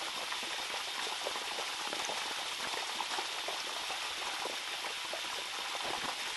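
Water flows through a Waterdrop DI spotless wash deionization system at about two gallons per minute, a faint, steady hiss with fine crackling texture and no pauses.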